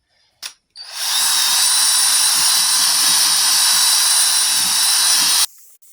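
A large polishing sponge on a buffing machine spins against rubbing compound with a loud, steady high whine that holds for about four and a half seconds, preceded by a brief click and stopping abruptly.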